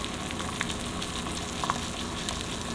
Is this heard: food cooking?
yes